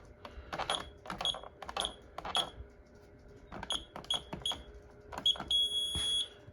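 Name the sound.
security system alarm sounding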